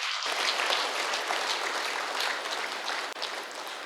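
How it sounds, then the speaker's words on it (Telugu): Steady, dense audience applause from a seated crowd at a meditation gathering, many hands clapping together with no breaks, at moderate volume and slightly distant, fading a little near the end. "మరొకసారి ఆయన ఒకసారి గట్టి క్లాప్స్ కొడదాం."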